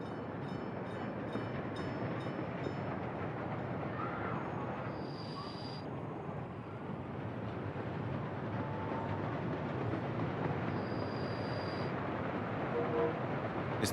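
Trains in the Workers & Resources city-building game rumble steadily as a continuous rolling drone, with faint brief tones rising now and then.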